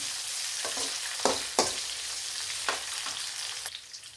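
Chillies, about ten of them, sauté in hot oil in a pan for mango rice, giving a steady, close crackling sizzle with a few sharper pops and stirring scrapes. No one speaks.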